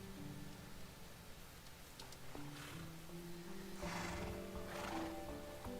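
Minecraft horse sounds in a hardcore survival game: faint neighs and hoof clops rise briefly in the second half over quiet background music.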